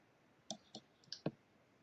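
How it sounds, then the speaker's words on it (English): A few separate keystrokes on a computer keyboard, five quiet clicks spaced irregularly over under two seconds in a quiet room. "Simply, just by typing letters from left to right, Intacct will start matching what we're typing to find the vendor"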